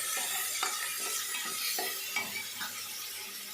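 Ginger garlic paste sizzles and fries in hot oil while being stirred, a steady crackling hiss broken by repeated scraping stirs of the spoon against the pan, close and continuous.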